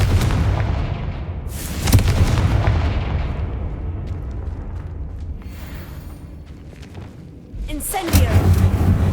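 A Confringo explosive spell bursts in Hogwarts Legacy, with booming blasts near the start and again near the end over rumbling low-end game noise, loud and close.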